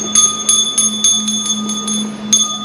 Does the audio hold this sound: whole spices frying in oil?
no